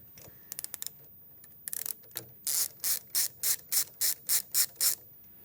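A socket wrench ratchets on a Sanremo espresso machine's group restrictor: a few light clicks first, then about ten loud, evenly spaced ratcheting bursts, close up and alone.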